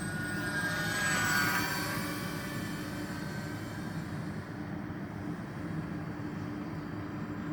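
A radio-controlled model Lancaster airplane on a calm evening flight gives a steady, even drone of engines from a distance, swelling slightly early on and then holding at a constant level.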